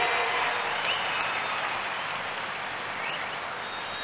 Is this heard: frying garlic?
no